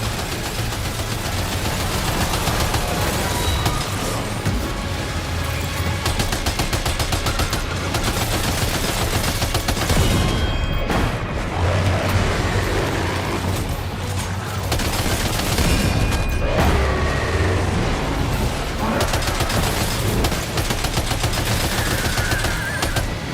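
Sustained gunfire in Death Stranding 2, dense automatic bursts and rapid shots rattling continuously with loud booms, close and heavy throughout with almost no talk.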